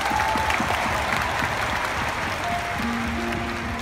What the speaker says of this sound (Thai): ขอเสียงปรบมือวง The Begins